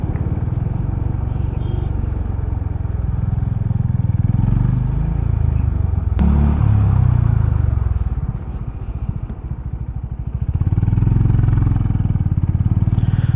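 Motorcycle cruising at speed along an expressway, its engine droning steadily and loud with wind rumble throughout, easing off briefly near the end before picking back up.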